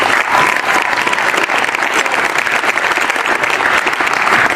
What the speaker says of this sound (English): So a round of applause for our wrestling team.